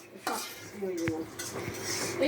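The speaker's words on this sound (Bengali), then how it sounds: "আসলাম নাড়া দেওয়ার জন্যে" A spoon scrapes and knocks against a pot while stirring red amaranth greens (lal shaak), a few short metallic clinks and scrapes over a soft background hiss.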